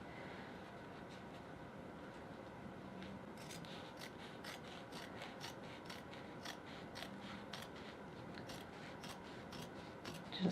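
Scissors snip repeatedly through a layer of fabric while a bag is trimmed in a sewing workroom, quiet, rhythmic cuts over a steady low background hum without speech.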